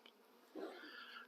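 Honey bees buzzing on brood frames pulled from a hive, a faint, soft hum that swells briefly midway as a bee passes near, heard without talking.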